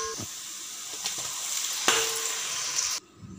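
Onions with bay leaf, cinnamon, black and green cardamom frying in oil, then a spice mix added, give a steady bright sizzle with a few stirring scrapes and a louder splash near the middle, cutting off sharply near the end.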